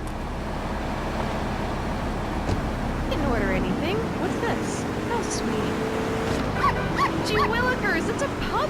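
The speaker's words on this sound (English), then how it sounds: "It's a puppy." Puppy yips, barks and whimpers from a Grand Theft Auto 3 radio ad for a pet shipping service, a cluster of high cries that grows busier toward the end over a steady bed of traffic rumble.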